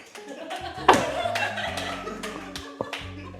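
A live audience at a talk show claps to vote yes, scattered individual claps and taps ringing out over a low hum with some murmuring voices, sparse rather than a full ovation.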